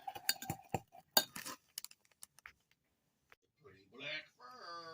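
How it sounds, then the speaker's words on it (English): A fork clinks and scrapes against a mug while stirring milk and crushed Oreo cookies into mug cake batter. The sharp, irregular taps come close up in the first half, and speech follows near the end. "So I'm just going to stir it up with a fork."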